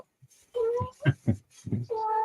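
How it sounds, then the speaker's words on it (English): Kittens meow loudly and close by in several drawn-out, overlapping cries, with short gaps between calls. "All these kittens. They're very loud. I know you guys can all hear them."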